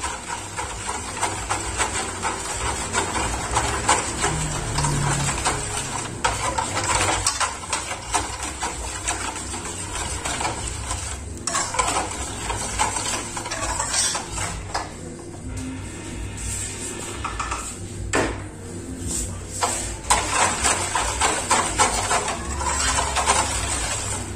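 Margarine being stirred into marble cake bread dough in a bowl, a steady close scraping and mixing texture that continues with brief pauses and no talk.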